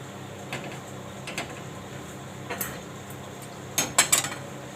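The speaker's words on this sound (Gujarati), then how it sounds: "તો પહેલાં આપણે લોટને શેકી લેવું." Dry flour roasting in a pan for kadhi, stirred with a spoon that gives light scrapes and a few sharp metal clinks against the pan, the knocks growing louder near the end.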